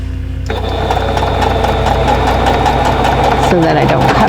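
A sewing machine stitching a quilt block, starting abruptly into a loud, steady mechanical whir with rapid needle chatter that shifts pitch near the end.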